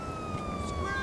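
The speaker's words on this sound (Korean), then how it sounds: "경찰차가 왔다리 갔다리 거리는 거 보니까" A police car siren wails in Grand Theft Auto V, a steady high electronic tone sliding slightly over a dense rumbling city background, loud and close for about a second.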